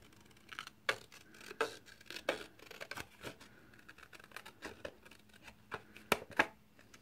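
Scissors snip steadily through a cooled craft piece for a gothic arch, a series of close, crisp cuts at an uneven rhythm with brief pauses between.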